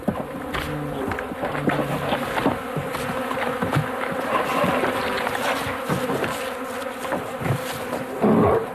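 Bees swarm around beehives in a dense, continuous buzz, loud and close, with individual insects droning past against the steady hum.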